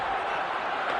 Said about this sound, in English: Crowd here in Buffalo is buzzing again